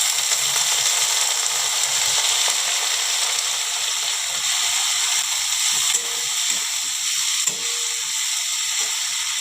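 Snake gourd (chichinga) sizzles steadily in a pan with fried onions. The broad frying hiss stays even throughout, broken by occasional stirring scrapes and clinks.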